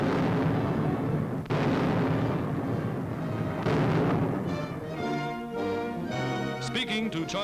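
Chinese soldiers fire mortars in an archival newsreel, with heavy booming blasts and rumbling bursts rolling under a narrator's voice and a music soundtrack.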